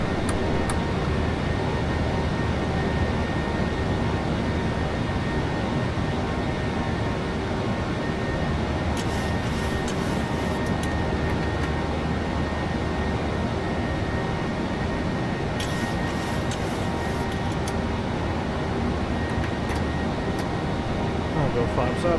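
Steady jet engine roar of a PMDG 737-800 airliner climbing after takeoff in Microsoft Flight Simulator, a loud continuous broadband drone filling the whole clip with no talk.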